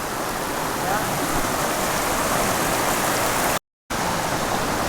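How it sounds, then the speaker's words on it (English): A pale-ale-colored creek near waterfalls outside Gambita, Colombia rushes steadily as a dense, even wash of flowing water, close and loud throughout, with a brief dropout near the end. "A creek with a pale ale color."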